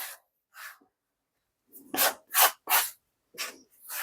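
A bench scraper mixes gnocchi dough ingredients on a work surface, making irregular short scraping and rubbing strokes, some sharper and louder, separated by silent gaps, close up and without talk.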